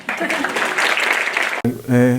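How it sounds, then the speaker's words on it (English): Audience applause bursts out in a dense, loud wash of clapping for a second and a half, then cuts off abruptly as a voice begins speaking. "You got a round of applause"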